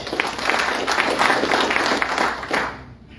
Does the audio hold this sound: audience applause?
yes